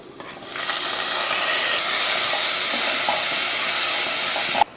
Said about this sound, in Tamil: ரசத்துக்கு தக்காளி கொஞ்சம் வதங்கட்டும்.